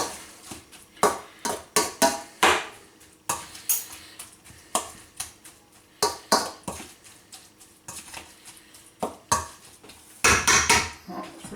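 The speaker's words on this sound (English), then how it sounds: "I'm going to stir this around fairly gently so I don't break the lentils up too much" A spoon stirs lentils in a pan for a veggie bake, giving a run of irregular clinks and scrapes against the metal, some louder knocks, and short quiet gaps between strokes.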